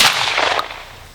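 A single sharp shotgun blast at a clay shooting range, loud and close, with a short decaying echo trailing off.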